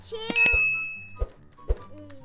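A bright notification bell dings once, clear and close, then rings out over a faint background with a few soft thumps and brief voice sounds.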